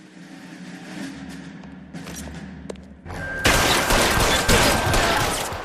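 Gunfire in a shootout in the video game L.A. Noire, with scattered thumps and shots at first and then a loud, dense burst of rapid firing.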